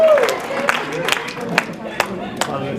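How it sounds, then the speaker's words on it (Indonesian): A church congregation applauds for God in scattered, thinning claps, a few sharp individual claps standing out as the applause fades, with a voice briefly audible at the start. "Beri tepuk tangan yang meriah buat Tuhan."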